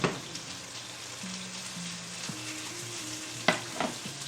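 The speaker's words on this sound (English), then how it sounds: "we got our asparagus sizzling now" Asparagus sizzling in a hot pan, charring over steady broadband frying noise, with a faint hum underneath and a couple of brief clinks near the end.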